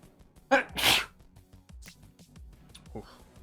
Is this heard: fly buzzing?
no